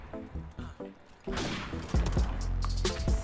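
Gunfire in Call of Duty: Modern Warfare Remastered during a sniping match, a few sharp shots and heavy thumps in close succession, with muffled game sounds between them.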